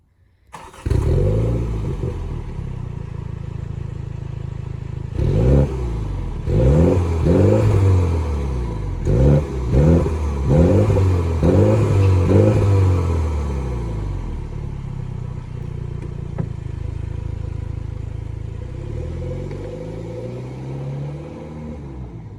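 A Mini John Cooper Works (F56/F57) hatch fires up and pulls away, its engine revving through several quick rising bursts and gear changes, then settling into a steady droning cruise, loud and close.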